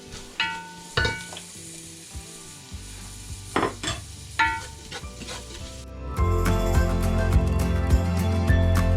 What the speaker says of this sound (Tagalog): Then we will put the garlic. We'll saute the garlic.